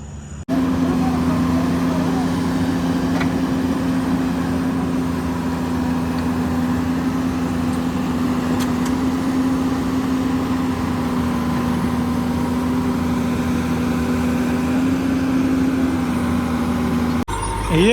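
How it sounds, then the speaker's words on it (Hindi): Steady diesel idle of a road-clearing machine stuck working at a rockfall on a mountain road in Uttarakhand, a low continuous drone that holds for the whole stretch, moderately near, with no talking. "ये वाली मशीन स्टार्ट हो रही है, बंद हो रही है, काम नहीं कर रही"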